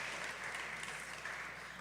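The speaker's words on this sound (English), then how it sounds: "Give yourselves a round of applause if I have your agreement on that." A crowd applauding steadily at a community town hall, a continuous wash of clapping hands with no voices, fairly faint and even throughout.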